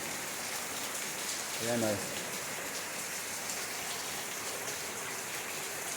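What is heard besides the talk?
heavy rain falling in the morning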